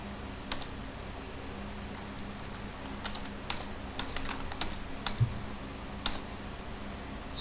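Someone types on a computer keyboard while entering accounting data, with scattered, irregular key clicks over a steady low electrical hum, close and moderately quiet.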